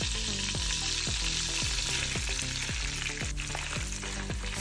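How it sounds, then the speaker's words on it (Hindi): Squid frying in melted butter in a pan, a steady, loud sizzle running throughout under a bed of music with regular beats. "बटर जशें मेल्ट जालें तशें तितून आमी स्क्विड्स घालून बरें शिजोवन घेवपाक जाय"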